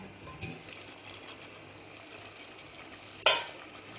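Fried chicken simmering in boiling butter chicken gravy in a home kitchen: a quiet, steady low bubbling, with a soft knock near the start and a sharp clink toward the end.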